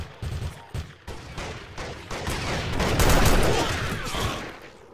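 Machine gun fire in a shooter video game set in a lost desert city: a rapid stream of loud gunshots swelling into a dense, sustained fusillade, with no talk over it.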